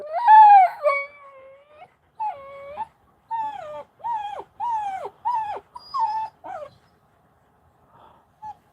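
A dog howls and whines in a long series of drawn-out, wavering vocal phrases, close and clear, each rising and bending in pitch with short pauses between, fading to faint whimpers at the end.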